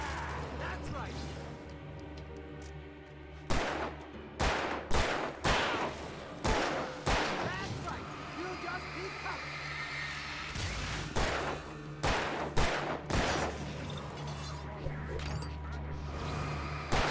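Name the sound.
gunfire in a video game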